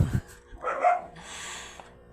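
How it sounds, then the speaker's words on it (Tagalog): A dog gives a few short barks and yips nearby, followed by a higher, drawn-out whine. "Oops, may pusa at may aso."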